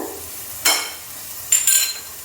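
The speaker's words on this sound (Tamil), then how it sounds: "அதுவும் போட்டு இது கொஞ்சம் வதங்கட்டும்" Spices with red chilli powder sauté in a pan, with two brief scraping stirs over a faint, steady sizzle up close.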